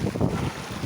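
Strong wind at sea rushes and buffets a microphone out on open water aboard a boat, a loud, continuous low roar with no voices.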